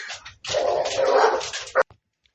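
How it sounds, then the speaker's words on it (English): Several dogs snarl, yip and bark in a close, noisy scuffle that lasts under two seconds, then stops abruptly with a final sharp yelp. "My dogs had a little argument, but nothing really serious."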